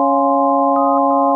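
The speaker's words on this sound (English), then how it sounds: "So we start off with the sine wave" A plain sine wave tone from the Sytrus FM synth, held steady and loud with no attack variation, sounding alone for about a second and a half.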